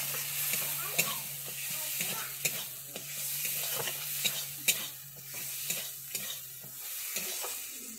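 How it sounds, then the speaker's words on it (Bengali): Tomato masala with cumin and coriander powder sautéing in a pan for a Bengali prawn and yam curry, a quiet steady sizzle punctuated by regular spoon taps and scrapes from stirring, no voices. "দিয়ে আমি এটাকে আরেকটু ভালোভাবে কষিয়ে নিচ্ছি"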